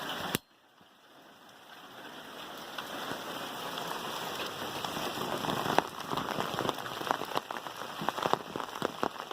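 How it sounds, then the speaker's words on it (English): Heavy rain pours down on hard surfaces at a muddy pig farm, a dense continuous patter with sharp individual drops ticking nearby, after a brief knock at the start. "Even when it's pouring down rain"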